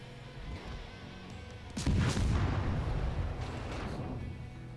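Heavy naval gunfire from the ship Leningrad in World of Warships: after a quiet stretch, a single loud, deep boom breaks out, followed by a sustained rumbling roar that slowly fades.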